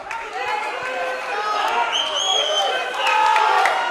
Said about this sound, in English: A lot of support from the crowd.